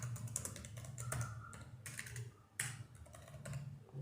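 Quiet, quick keystrokes on a computer keyboard as a command is typed into a command prompt, clattering in an irregular rhythm close to the mic with no voices.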